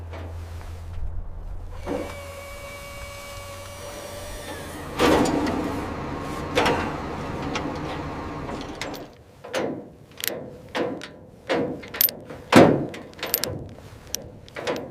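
A 1969 Jaguar E-Type body grinds and scrapes during loading onto a transport, with a long mechanical whine and then a series of sharp, uneven scraping bursts and knocks close by.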